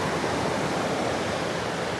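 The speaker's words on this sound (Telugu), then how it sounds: "నాకు తెలిసి వాటర్ ఫ్లో బాగా గట్టిగానే ఉంది" A waterfall in Melbourne pours with strong flow, a steady, dense roar of rushing water that continues unbroken and fairly loud throughout.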